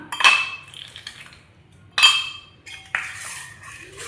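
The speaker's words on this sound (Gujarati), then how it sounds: "હવે આપણે ગ્લાસની અંદર પહેલાં છે ને આઈસ ક્યુબ નાખશું 3-4" Ice cubes, three or four at a time, drop into glasses for homemade sugarcane juice, making bright clinks and rattles in three distinct bursts, close up and fairly loud.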